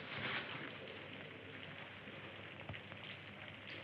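Steady rain falling on a city street, a continuous soft hiss with scattered drip detail and a faint low rumble, heard alone and fairly quiet.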